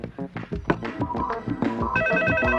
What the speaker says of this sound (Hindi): मैं निक्की को फोन ट्राई करता हूँ